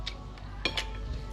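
A knife and fork cutting sausage on a breakfast plate: a few faint, separate metallic clinks and scrapes against the plate over a quiet background.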